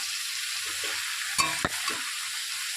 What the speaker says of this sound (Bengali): কাঁচা লঙ্কাটা দেওয়ার পরে খুঁটির সাহায্যে নেড়ে খুব ভালোভাবে মিশিয়ে নিতে হবে